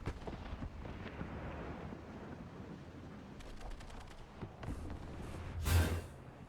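A Su-122-54 tank gun in War Thunder fires, a heavy blast near the end standing out over a low rumbling engine and scattered distant shots.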